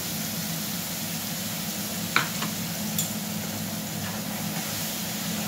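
Ground poppy seed and mustard paste hits hot oil for ilish fish curry, a constant close frying hiss with a couple of brief stirring clicks and no voices.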